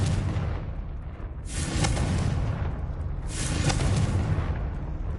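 A Confringo blasting spell in Hogwarts Legacy is cast as two heavy booming blasts about two seconds apart, each a broad rumbling burst over a steady low background.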